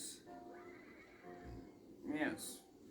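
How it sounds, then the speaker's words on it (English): A horse gives a loud whinny near the end of a quiet stretch, with faint hoof clip-clop earlier, in a storybook scene about a king admiring fine horses; a narrator's voice is present. "My, what beautiful horses."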